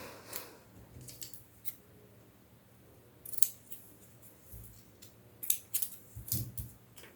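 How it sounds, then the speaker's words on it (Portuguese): Scissors snip through elastic for a doll's pajamas in a few sharp, close metallic cuts spread across a quiet stretch, with soft handling noise between them. "E vamos cortar."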